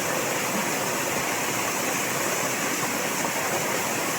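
A hidden waterfall near Kalyan and Titwala roars as a dense, constant rush of falling water, loud and unbroken with no voices.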